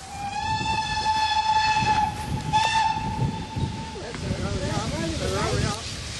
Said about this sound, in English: At least the trains are giving plenty of warning.